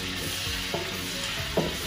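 Garlic frying in a large pot for potato chicken cooked for a charity lunch for 500 people, giving a constant loud sizzle with a few scraping stirs and clanks. No one speaks.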